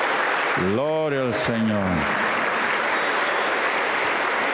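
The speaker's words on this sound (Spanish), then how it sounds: "Aplauso para el Señor Jesús." A loud, steady wash of church congregation applause fills the clip, with a voice calling out briefly over it near the start.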